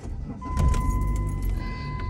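A car with a cracked windshield starts up: keys jangle, then the engine catches and settles into a low, steady idle heard close by.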